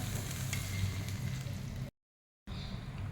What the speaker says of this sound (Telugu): ఉప్పు పసుపు చికెన్లో ఉన్నటువంటి నీరు అంతా ఇంకిపోయేంత వరకు వేయించాలి